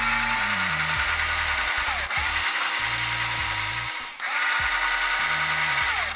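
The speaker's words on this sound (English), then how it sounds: "Now I'm gonna run the screws through here first before I attach the switch" A small power driver runs screws into the plastic casing of a TurboGrafx 16 console in three long, loud whirring bursts with stepping motor pitch, each briefly cut off before restarting, heard up close.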